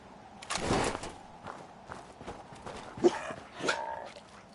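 Dogmeat, the canine companion in Fallout 4, moves about with soft footsteps and a brief bark-like sound, fairly quiet over a low game ambience, with no talk.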